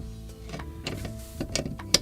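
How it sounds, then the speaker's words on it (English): Screws come out of a QSC K12 powered speaker with a no-power fault: short quiet whirring bursts and small clicks, close by and without talk. "Just gonna remove all the screws, and we gonna take a deeper dive."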